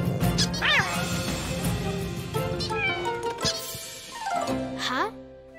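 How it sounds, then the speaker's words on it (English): Cartoon cat meowing: several loud, bending meows and caterwauls, with crashes and bangs between them and a final rising meow near the end. "Peter, I think Mr. McGregor's cat wants to play"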